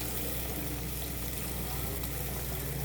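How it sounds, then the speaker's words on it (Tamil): Tamarind water pours into a pan of Tamil-style fish curry as a continuous, even liquid rush with no breaks or talk. "அந்த தண்ணி வந்து இதோட சேர்த்துக்கலாம்."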